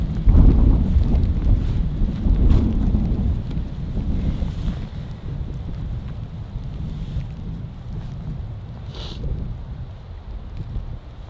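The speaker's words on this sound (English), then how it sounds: "It's so windy now." Strong wind buffets the microphone outdoors in snowy country beside a small campfire, a heavy roaring rush that is loudest at first and then eases into a steadier gusting blow.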